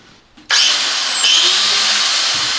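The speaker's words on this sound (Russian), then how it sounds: "Включаем болгарку." Angle grinder switched on and spinning up sharply, then running at a steady, loud, high-pitched whine for a couple of seconds, close by with no talk over it.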